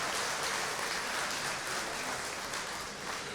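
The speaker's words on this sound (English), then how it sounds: "Start this night out with a round of applause for yourselves for what you have done." Steady, dense audience applause filling a hall at an RV and motorhome Hall of Fame induction ceremony, loud and continuous with no voices over it.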